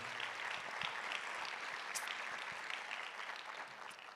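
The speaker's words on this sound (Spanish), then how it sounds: "Dale un aplauso al Señor." Applause from a church congregation, a continuous soft spread of many hands clapping, faint and distant-sounding, with a few sharper claps standing out and no speech over it.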